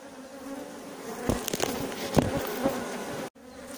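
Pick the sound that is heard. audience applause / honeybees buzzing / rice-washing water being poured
honeybees buzzing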